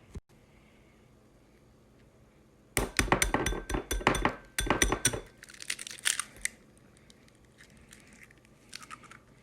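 Backyard and factory eggs being cracked open against a hard edge, a cluster of sharp, clicking taps and cracks in quick succession, followed by lighter sporadic clinks, close and clear with no talking.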